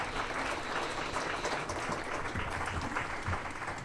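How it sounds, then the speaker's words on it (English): Steady crowd applause at an electoral justice conference in 2017, thanking a panel: dense, continuous clapping from many hands that holds even throughout, filling the hall. "let's thank them with a round of applause."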